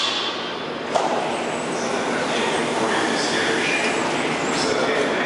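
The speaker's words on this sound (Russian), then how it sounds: "Вот поезд АК 81-760-761." A Moscow metro train, model 81-760/761, rumbles through a station with a steady roar, a thump near the start, and faint voices and echoes in the background.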